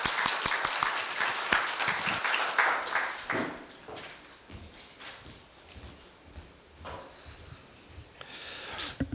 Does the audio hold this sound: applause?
yes